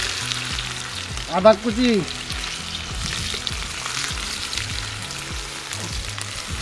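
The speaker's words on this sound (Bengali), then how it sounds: "পেঁয়াজটা দে, জালটা একটু কমানো হোক, রস আছে তো ওতে।" Onion and ginger fry for a duck meat curry, a steady loud sizzle throughout with a brief stirring clatter early on, and a short spoken phrase over the cooking.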